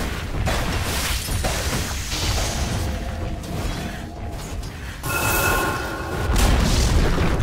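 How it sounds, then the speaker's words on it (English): The Dire top tower crumbles in Dota 2, a loud booming collapse that swells within a dense, continuous roar of game battle noise and mechanical clatter. "Dire's top tower has fallen."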